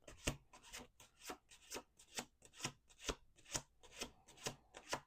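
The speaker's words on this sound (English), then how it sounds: "2 more shuffles." Tarot cards being shuffled by hand, a quick series of about a dozen soft, papery riffling bursts in a steady rhythm, close and fairly quiet with no talking.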